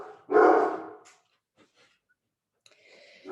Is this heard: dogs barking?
yes